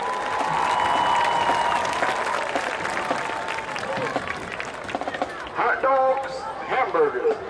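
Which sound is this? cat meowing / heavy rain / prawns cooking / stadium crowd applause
stadium crowd applause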